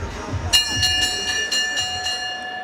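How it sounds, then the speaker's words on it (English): A boxing ring bell is struck right after a knockout at a Terence Crawford vs Egidijus Kavaliauskas fight, giving a rapid series of about seven bright, ringing clangs over a steady arena crowd murmur. "Go ahead, ring that bell."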